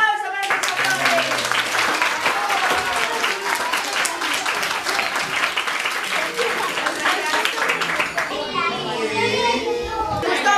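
A group of children applauds loudly and continuously, their clapping mixed with excited chatter and shouts, then thins toward the end as voices take over.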